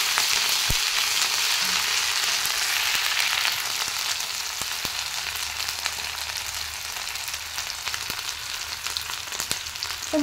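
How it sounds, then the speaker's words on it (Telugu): Spice paste frying in hot oil gives a steady, dense sizzle that holds level throughout, with a few faint clicks of utensils in the pan and no talking. "ఇది ఆయిల్లో పచ్చివాసన పోయే వరకు ఫ్రై అవ్వాలి"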